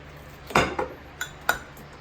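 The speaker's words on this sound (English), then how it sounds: "Now we're gonna put the stove on high and heat up some cooking oil." A cooking pot set onto a stove before heating oil for borscht, a few distinct metallic clunks and clinks, close, with no one talking.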